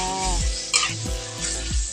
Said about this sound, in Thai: แล้วก็คนคนคนกุเลกุเลนะคะ ผัดให้เข้ากันกับพริก